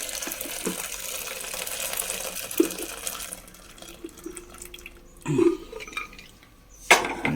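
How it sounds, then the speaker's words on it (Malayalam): Boiled tapioca pot drained in a kitchen, hot water sloshing and pouring out in short bursts with a couple of clinks of metal, moderately close, no talk. "നമുക്ക് അതിൻ്റെ വെള്ളം ഒന്ന് ഊറ്റി കളയാം."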